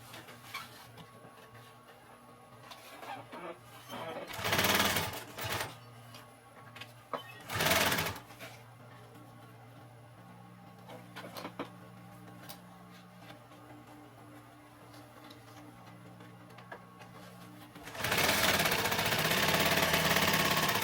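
A sewing machine stitches across a simple homemade backpack in several short bursts of rapid whirring, with quieter handling and fabric shuffling between runs and a longer, louder burst near the end.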